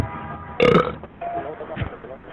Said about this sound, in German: sag nicht, dass du gerade in den Hörer gerülpst hast